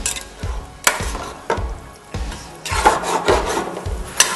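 Artichoke filling stirred in a hot pan, repeated scraping and rubbing strokes of a spoon against the pan in an uneven rhythm, with a light sizzle underneath, close and clear, with no talking.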